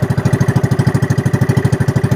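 Fishing boat engine under repair, running close and loud with a fast, steady chugging pulse that throbs evenly throughout.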